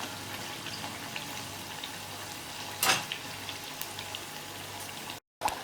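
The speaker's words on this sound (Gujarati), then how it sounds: "તો અહીંયા આપણી પૂરી તળાઈ ગઈ છે" Farsi puri deep-frying in hot oil over slow to medium heat, a steady soft crackle and sizzle with a brief louder burst of bubbling partway through, no talking.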